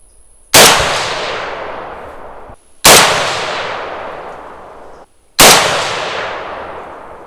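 Three loud, sharp shots from a Heckler & Koch MR762 LRP rifle, spaced a little over two seconds apart, each ringing out and fading before the next.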